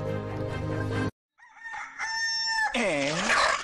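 A rooster crows loudly and close in a few rising and falling calls after a brief silence, with another tonal sound just before it.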